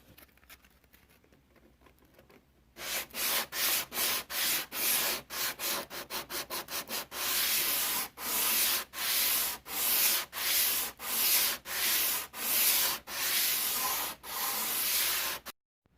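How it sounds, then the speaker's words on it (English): Sanding of a repaired Chevrolet Cobalt rocker panel, heard up close as steady back-and-forth rasping strokes in a brisk rhythm, briefly quickening before settling into longer even strokes, with no talking. "that way you can go back and forth and sand it then"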